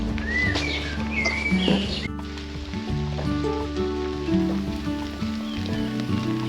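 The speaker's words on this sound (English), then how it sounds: "the light rain adds to the mystique" Light rain falls in a deep forest on the Camino Invierno trail, a steady soft patter and sizzle with scattered birds chirping, and a low musical drone underneath throughout.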